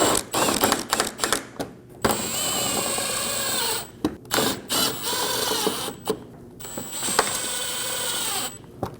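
A power tool drives screws while a dual radiator and condenser fan assembly is fitted on a 2008-2015 Scion xB, sounding as loud, close whirring bursts that start and stop repeatedly with short pauses between runs.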